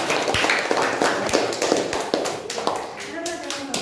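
Primary school pupils in grades five and six clap their hands during a Ramadan Family 100 quiz game in a classroom, a dense burst of claps filling the room amid children's chatter and shuffling.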